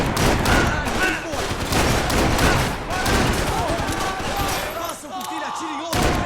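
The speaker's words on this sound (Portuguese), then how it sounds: "Continue atirando! Continue atirando!" Gunfire in the PS3 game Max Payne 3, a dense, loud barrage of shots and bursts running nearly throughout, with shouted voices mixed in during the firefight.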